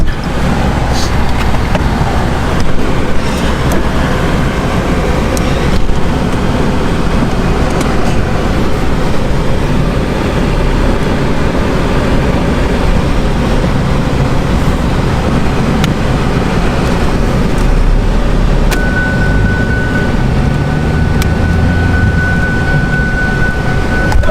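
A car on a test drive after air was bled from its cooling system, heard from inside the cabin as a steady, loud road and engine rumble with no break, plus a faint whine near the end.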